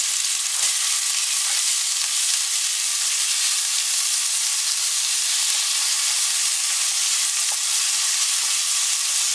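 Julienned half Spanish onion in olive oil over high heat, giving a loud, even, continuous sizzle and hiss up close.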